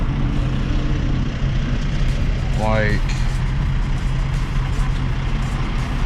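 A Ford Mustang with its resonator deleted drones loudly and steadily from the exhaust, a constant low rumble heard from inside or close by, with a brief rising whine midway and a voice speaking over it briefly.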